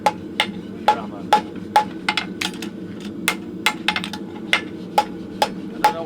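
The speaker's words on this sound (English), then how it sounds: "You just massage it gently with your hammer." A farrier taps a hot horseshoe with a hammer in a steady run of about a dozen light, ringing strikes, fairly close and evenly spaced, with no voices.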